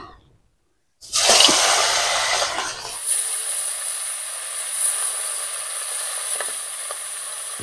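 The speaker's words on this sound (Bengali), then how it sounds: "মাছগুলো যতক্ষণে ভাজা হচ্ছে" A loud burst of sizzling as tilapia hits very hot oil, settling into a steady crackling fry with occasional pops, close by and without voices.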